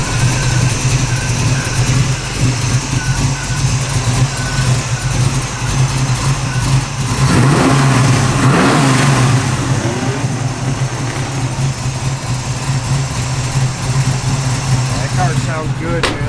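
A 1966 Chevrolet Nova SS V8 with a lopey cam runs steadily, rumbling loud and close with a brief rev swelling midway, while people talk over the idle.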